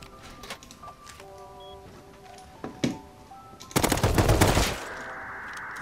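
Burst rifle gunfire in a video game, sharp close shots and short rapid bursts, ending in a loud sustained volley over faint background game sounds.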